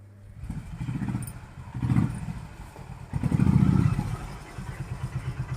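A motorcycle idles and revs nearby in a few uneven surges, its engine rising and falling with a clattering mid-pitched rumble, no voices over it.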